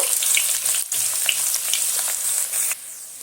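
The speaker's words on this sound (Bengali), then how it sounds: "পেঁয়াজটা দিয়ে আমি একটু লাল লাল করে ভেজে নেব।" Chopped onion frying in hot oil in a pan for ghugni, a steady close sizzle with brief soft stirring scrapes and no talk.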